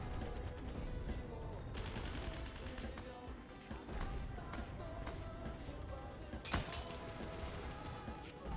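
Glass breaking under gunfire in the shooter game Heroes & Generals, with a sharp shattering burst near the end over dense, continuous rattling gunfire and battle noise.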